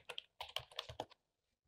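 A short burst of about six crisp computer keyboard keystrokes, close and distinct, followed by silence.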